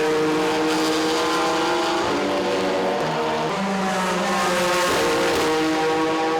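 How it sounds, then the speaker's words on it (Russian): A race car engine roars loudly and continuously on a circuit during a four-hour endurance race, holding a sustained harmonic howl that shifts pitch around the two- and five-second marks as the car changes gear, with no speech. "Оглушительный рев мотора на каждой прямой притягивал взгляд и слух зрителей."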